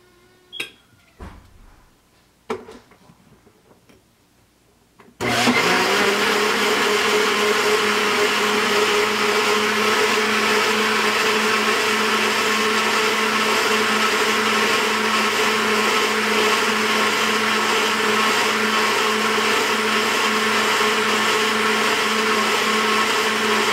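An electric blender runs steadily for about eighteen seconds, grinding beso, a roasted barley drink, after a few faint clicks and handling sounds; the motor whine is loud and continuous with no talk.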